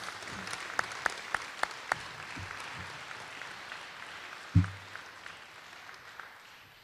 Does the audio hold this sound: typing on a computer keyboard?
no